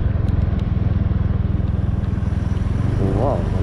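Motorcycle idles on a steep mountain road, a loud, steady low engine throb that runs the whole time.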